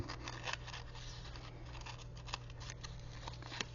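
Scissors snipping around cut-up paper ephemera for a shabby chic journal collage, a run of quick, close, fairly quiet cuts over a steady low hum.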